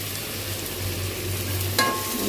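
Onions and tomatoes sautéing in a pan with turmeric, a steady close sizzle and the scrape of stirring, with a sharper burst of frying near the end.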